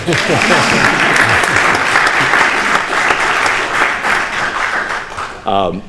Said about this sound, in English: I was expecting a round of applause for that.